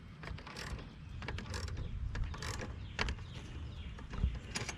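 A battery terminal being tightened on a 2005 Toyota Camry XLE: a busy run of close metallic ratcheting and clicking from a hand tool, with small clanks and taps throughout, no talk.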